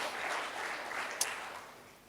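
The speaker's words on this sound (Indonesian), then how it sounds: "Yang percaya tepuk tangan bagi Tuhan kita yang luar biasa" A church congregation claps in praise during a sermon, steady broadband applause filling the whole moment at moderate level, with one brief sharper clap standing out near the middle before the clapping slowly fades.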